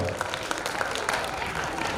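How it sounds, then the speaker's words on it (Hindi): An audience at an evening religious event in India applauds, a dense wash of many hands clapping at once, steady and moderately loud throughout. "एक बार दिल खोल के तालियां बजाएगा"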